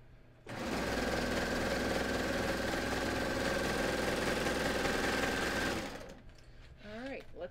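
A sewing machine stitching the inseams of a skort runs in one steady, loud, close burst for about five seconds before stopping, followed by a moment of handling noise and a short spoken comment.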